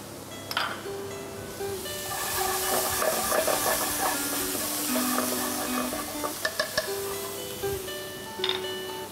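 Shallot, garlic and spring onion sizzle in a hot pan, a loud steady hiss with crackles and the odd clink of a utensil throughout.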